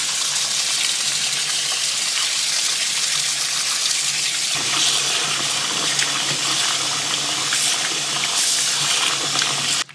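Cold tap water gushes steadily from a kitchen faucet over frozen food in a sink to thaw it, a loud continuous splashing rush with no pauses and no talking.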